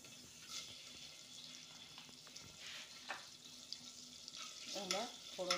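Dried chillies, mustard seeds and curry leaves tempering in hot oil for dalia upma make a soft, continuous sizzle with scattered crackles and a few sharp clinks near the end.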